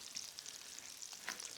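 Asparagus fries sizzle steadily in hot oil in a frying pan set to about 300–325 degrees, a close, continuous crackle with small bright pops and no talking.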